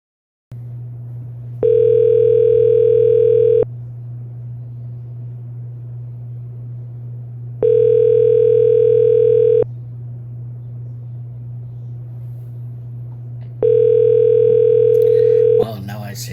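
A telephone rings out while calling a number back: three long, steady ringback tones, each about two seconds, separated by pauses over a constant low hum. A brief burst of noise comes at the very end.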